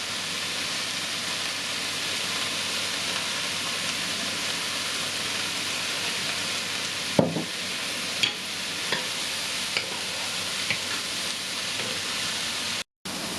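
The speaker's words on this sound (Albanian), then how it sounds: "Do t'i shtojmë vaj dhe avash do ta kavurdisim derisa të filloj dhe të" Chopped leeks sauté in oil in a pan, a steady, even frying hiss throughout with a few light knocks and scrapes near the end, close and continuous with no talking.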